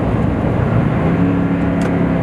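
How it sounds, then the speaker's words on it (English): Toyota Tundra with a 5.7L engine and a Flowmaster Super 44 exhaust, heard from inside as a loud, steady low engine drone with a slight rise in pitch while downshifting. "it's a little bit louder, but it'd be like downshifting"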